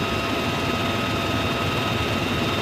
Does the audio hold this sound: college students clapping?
no